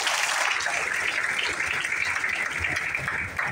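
An audience at a stage-sharing event in Kalyan breaks into dense, steady applause that holds at an even loudness for several seconds, with a few voices mixed into the clapping.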